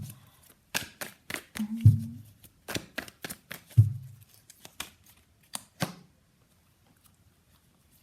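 Tarot cards being shuffled by hand in a quiet room, giving bursts of crisp riffling and flapping separated by short pauses and soft taps, close and fairly faint, with no talk.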